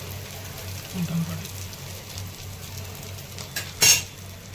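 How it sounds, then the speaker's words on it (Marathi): Egg paratha shallow-frying in plenty of oil on its flipped second side, a steady close sizzle with a few brief scrapes and clinks of a spatula against the pan. No one speaks. "आता दुसऱ्या साईडने छान भाजून घ्यायची आहे"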